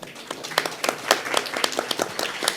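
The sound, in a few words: audience applause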